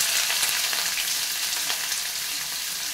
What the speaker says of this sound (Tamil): எண்ணெய் காஞ்சதும் முதல்ல வந்து கொஞ்சம் கருவேப்பிலையும் வெங்காயத்தையும் முதல்ல போடுறேன்.